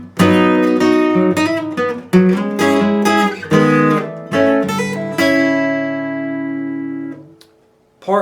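A guitar plays a song's verse riff at full tempo, quick picked notes and chord stabs tumbling together before a final chord rings out and decays, close and with no talking.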